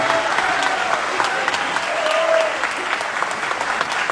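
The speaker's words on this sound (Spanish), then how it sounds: "Gracias a ustedes, un aplauso." Concert crowd at a murga performance at Montevideo Music Box applauds steadily, a dense, loud, continuous wash of clapping filling the space with a few brief whistles and cheers mixed in.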